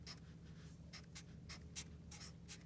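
Fractions being written by hand, a close run of short pen or marker strokes in quick, uneven bursts over a quiet background.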